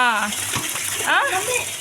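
Water splashes steadily into a container close by while voices talk over it.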